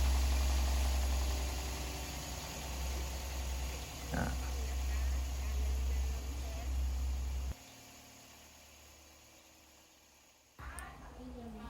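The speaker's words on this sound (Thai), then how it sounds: "ต่อไปมารับฟังเสียง เครื่องยนต์กันนะครับ" Toyota Vios Soluna 1.5 automatic idling with a steady low hum and faint ticking, close to the microphone; the engine cuts out near the end and then briefly restarts.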